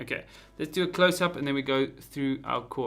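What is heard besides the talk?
No everyday noise stands out behind the speech.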